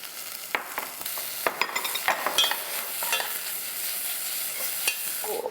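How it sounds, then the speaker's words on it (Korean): Vegetables and taro stems are stir-fried in a pan over low heat, a steady sizzle broken by irregular scraping and clacking strokes of a utensil against the pan. "적은 불에서 약 5분에서 7분 정도 천천히 볶아주시고요."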